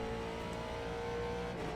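Late model race car engine at Martinsville in the iRacing game, a steady loud droning whine held at high revs for the whole stretch with no talk.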